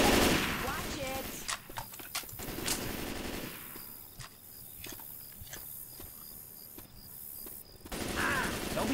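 Rapid gunfire from weapons in the co-op zombie shooter Left 4 Dead 2, with bursts and single shots cracking repeatedly at moderate loudness while players talk over the action.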